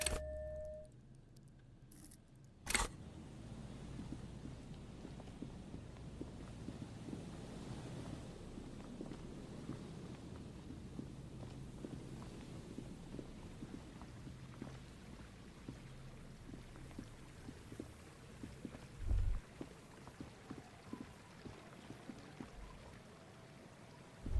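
Running water from a broken pipe in the video game Disco Elysium, a faint, continuous rushing flow that persists steadily throughout, with a few brief louder knocks and no speech.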